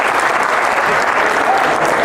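A comedy club audience at a stand-up show bursts into dense, loud applause, a steady roar of clapping with scattered voices mixed in.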